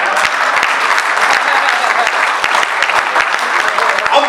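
A comedy show audience claps continuously, a loud, dense wash of applause with sharp individual hand claps popping through, steady throughout with no clear speech.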